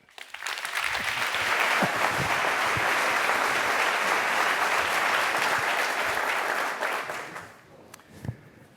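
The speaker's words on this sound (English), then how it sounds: "So please give a massive round of applause to the CEO of ING, Steven van Rijswijk." Sustained applause from a large conference audience, loud and steady for several seconds, then tapering off into a few scattered claps.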